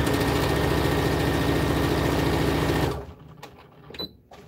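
A sewing machine stitches a fabric bowl cozy with a loud, steady, close mechanical whirr for about three seconds, then stops, leaving a few soft handling noises and clicks.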